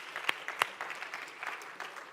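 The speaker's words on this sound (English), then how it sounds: "So let's give them a big round of applause." Scattered applause rises from a Cosmoverse conference audience for the event team, a few sharp claps near the microphone over a thinner, more distant patter.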